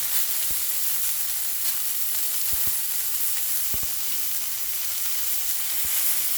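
Meatballs frying in a hot pan give a steady, loud sizzle with a few sharp low thumps as they are flipped and rolled, with no voices.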